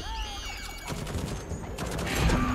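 A turret in the video game Deathloop fires a rapid burst of gunshots, harsh cracking rounds blending into a sustained rattle after an electronic whir, loud and close.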